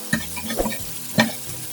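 Chicken frying on a hot tawa, with a couple of scraping stirring strokes over a soft, constant sizzle, close up and without talk.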